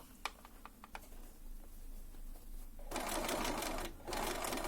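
A sewing machine stitches the cuff of a sleeve, a fast mechanical rattle that grows loud and steady in the second half, following sparse quiet clicks and handling sounds at the start.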